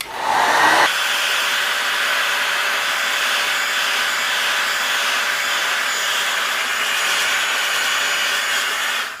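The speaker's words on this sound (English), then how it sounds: "You can also make it with your heat guns like a little bit burned areas." Heat gun blowing on armor to scorch and burn areas for battle damage, a steady loud whooshing roar that starts with a brief surge then holds constant, with no talk.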